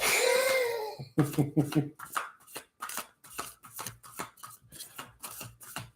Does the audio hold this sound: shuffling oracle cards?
yes